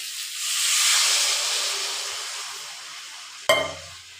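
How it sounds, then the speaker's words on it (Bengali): Bamboo shoot curry sizzling loudly in a pan, a steady hiss and sizzle that swells and fades, then a sharp burst of spitting and bubbling as water is poured in near the end. "সাতলানো হয়ে গেছে, ওখানে আমি এটার মধ্যে জল দেব।"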